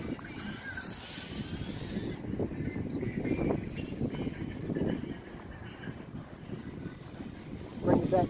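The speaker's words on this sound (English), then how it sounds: "Very windy out here." Strong wind gusting outdoors at an FPV quadcopter flying spot, a steady broadband rush with louder swells and buffeting against the microphone throughout.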